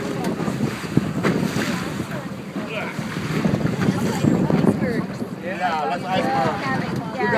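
A boat runs on the Colorado River in the Grand Canyon while fleeing small tsunami waves, with a loud churning motor, rushing water and buffeting wind noise, and voices speak over it.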